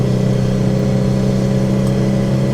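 A Porsche 912 engine pulling steadily up a mountain road in third gear at mid RPM, a constant, loud, close droning hum with no voices.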